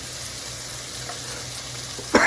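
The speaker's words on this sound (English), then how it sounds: "what you want to do is just keep stirring it until it turns to a nice caramel color" Soy sauce and butter sauce sizzles steadily in a pan while it is stirred toward a caramel color, ending in a brief louder scrape or splash.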